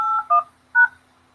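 Three telephone keypad tones dial into a conference call line, two short beeps in quick succession followed by a third after a pause, clear and alone with no talk.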